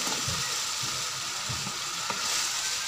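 Pumpkin goes into frying onion, green chili and tomato masala for a chana dal dish, producing a loud, dense sizzle with low thumps and stirring scrapes up close.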